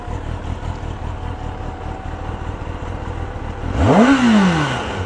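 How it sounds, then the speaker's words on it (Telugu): A Kawasaki ZX-10R motorcycle starts near the end, its exhaust note rising in a sharp rev that sweeps up and settles into a loud idle, after a steady wind-like background rumble. "బైక్ స్టార్ట్ చేద్దాం. నేను ఎగ్జాస్ట్ నోట్ చూపిస్తాను."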